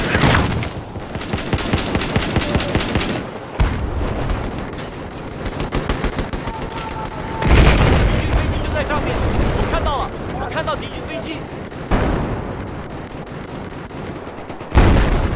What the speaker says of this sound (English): Whoa, cruise missile.